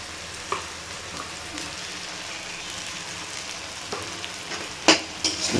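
Salt and turmeric fry in a pan while being stirred, a soft steady sizzle with occasional scrapes and clicks of a utensil, louder clatters near the end, and no talking.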